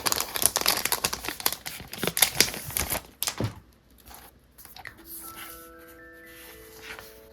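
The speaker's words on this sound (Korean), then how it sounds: "제가 지금 이것만 비닐을 안 벗겼는데 이렇게 비닐을 벗겨보시면" Plastic wrap peeled and crinkled off a Midori paper diary, loud close rustling and crackling for a few seconds that fades to quiet, with soft faint tones afterwards.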